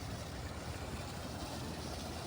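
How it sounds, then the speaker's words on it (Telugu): Two engine pumps dewatering the flooded basement at the Amaravati Capital HOD Towers site give a steady, dense, faint mechanical drone and water rush that holds evenly throughout, with no voices. "ఈ డబుల్ ఇంజన్ ఈ సైడ్ పెట్టారనమాట"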